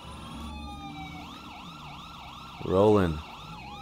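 Wailing ambulance sirens in State of Decay 2 rise and fall in overlapping cycles at moderate distance, with a brief louder yelp partway through. A voice speaks briefly.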